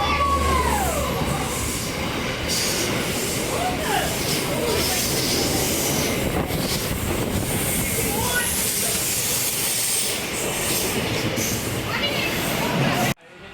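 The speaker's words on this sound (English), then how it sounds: "H5 is arriving into platform number 2 for a Hamilton Newcastle service." An NSW TrainLink H set passenger train pulls into the platform at Koolewong station with a loud, steady rumble and hiss that lasts throughout and then cuts off abruptly at the end.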